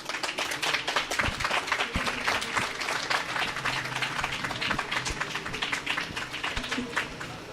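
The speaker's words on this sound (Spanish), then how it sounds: "Un aplauso nuevamente." An audience at a history lecture in Mexico applauds, with dense steady clapping from many hands that keeps going for several seconds before tapering slightly.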